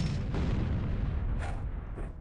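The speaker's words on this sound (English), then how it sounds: "And that's a grenade." A grenade explodes in a video game amid a loud, rumbling barrage of booms and bursts, heavy and close, with sharp pops sounding near the end.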